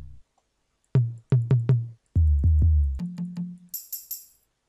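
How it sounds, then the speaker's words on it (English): An FL Studio percussion sample for Afrobeat production plays a run of low, punchy drum and tonal hits, then three quick, bright jingling tambourine shakes at the end, alone with no talking. "That's a tambourine."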